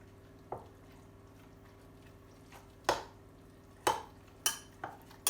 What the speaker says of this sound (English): Different spoon to mix that up.